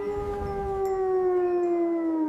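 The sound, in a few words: wolf howling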